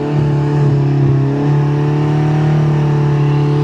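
Race car engine at the Avala hill climb, a loud, close, sustained drone holding a steady pitch for a few seconds with no voices over it.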